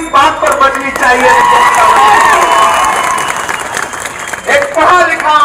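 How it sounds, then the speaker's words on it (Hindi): A large audience at a Maharashtra political gathering breaks into loud applause and cheering, sustained clapping with shouts and a speaking voice rising over it, briefly dipping near the end before surging again. "मुझे लगता है और जोरदार ताली इस बात पर बजनी चाहिए।"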